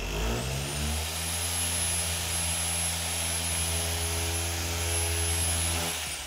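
A Liquid Element polisher runs at speed setting 6, a loud steady motor whine with a constant hum throughout, close and uninterrupted, no voices.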